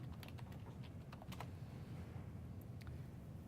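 Quiet, quick keystrokes on a computer keyboard tap out in an irregular burst of clicks over a faint background hum.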